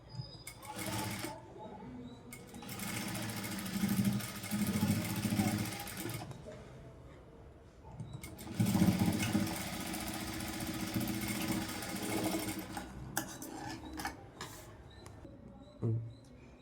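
A sewing machine stitches blouse pieces together in two long bursts of fast, buzzing mechanical whirring, with quieter pauses, fabric handling and small clicks between runs.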